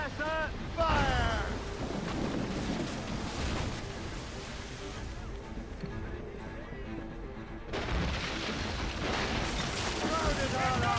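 Ship cannons fire in Assassin's Creed Rogue as heavy booming blasts roll over constant ocean surf and rumble, with shouted voices over the battle throughout.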